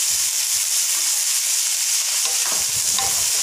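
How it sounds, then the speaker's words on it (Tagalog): Beef sautéing in a frying pan with only a little oil, a loud steady sizzle and hiss with occasional stirring scrapes, close and continuous with no talk. "Isusutin na natin yung beef, guys."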